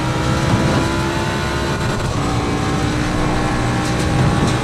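Ford Mustang race car engine in Assetto Corsa Competizione holding a steady, loud high-rev drone with dense harmonic buzz throughout, no speech over it.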